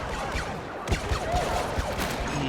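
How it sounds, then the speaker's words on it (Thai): Rapid bursts of gunfire from a multiplayer Star Wars Battlefront match crackle through a dense, busy battle mix, with several sharp shots standing out over continuous game noise. "เสียงปืนอะไรวะ"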